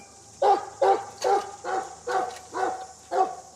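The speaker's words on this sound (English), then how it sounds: "So basically the bark is just giving him a lot more power" A sheepdog barks while rounding up a small flock in a paddock, seven evenly spaced sharp barks at moderate distance over quiet background.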